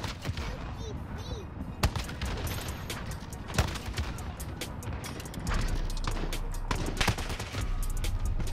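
Rytec AMR sniper rifle firing explosive rounds in Modern Warfare: sharp, booming shots and blasts at irregular intervals over constant battlefield noise, with a voice talking underneath.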